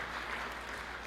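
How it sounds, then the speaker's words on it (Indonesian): Congregation at a church sermon clapping steadily, a dense even wash of applause throughout with no pauses. "Berikan tepuk tangan yang meriah buat Tuhan."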